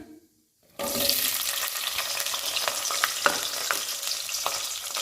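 Onions tipped into hot oil with dried red chillies and tempering seeds, starting with a sudden burst of sizzling after a moment of quiet, then settling into a steady close crackle with occasional stirring taps and no voices.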